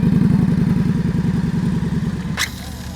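Motorcycle engine during slow-speed riding practice in Maryland, a close, loud throbbing putter with even pulsing beats that eases off near the end, where a brief sharp rattle cuts through.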